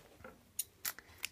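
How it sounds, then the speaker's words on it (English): Scissors snipping yarn while tying off a wool letter craft, three or four quick crisp metallic snips with short gaps between them, close and faint against a quiet room. "So where are my scissors here?"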